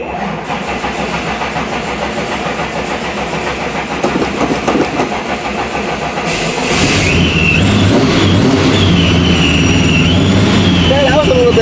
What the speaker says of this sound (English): A little bit hard of a cold start.